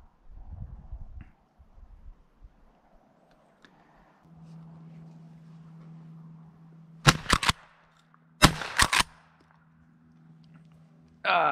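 Shotgun blasts ring out during a dove hunt in South Texas, two sharp shots a second or so apart with echoing tails, over a steady low engine-like hum and faint rustling.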